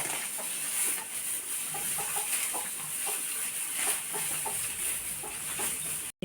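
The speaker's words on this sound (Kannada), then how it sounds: "ಕೋಳಿ ಮರಿ" Young chickens peep and cluck steadily and close by, a constant high chirping with scattered softer clucks throughout.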